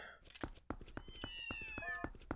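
Video game cats in Zelda Twilight Princess HD meowing, a few short mewing calls mixed with faint ticking game sounds at low volume, and a player's voice briefly present.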